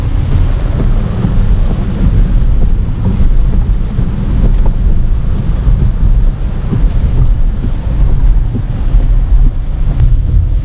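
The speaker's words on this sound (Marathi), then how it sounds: "पाऊस बघा यार थांबायचं नाव नाही आहे" Heavy monsoon rain pours steadily at Malavli near Lonavala, a dense, loud, unbroken roar with wind buffeting the microphone throughout.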